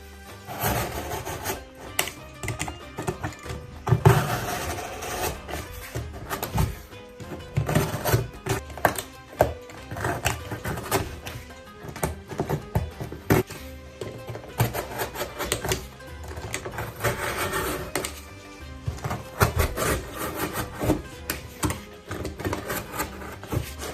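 Cardboard cut by hand for a paper mosque craft, repeated scratchy snipping and rubbing sounds in an uneven rhythm, close and fairly quiet, without talk.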